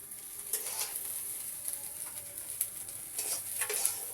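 Cauliflower frying in a pan gives a soft, steady sizzle with light stirring scrapes and a few faint clinks, quiet and close, no speech.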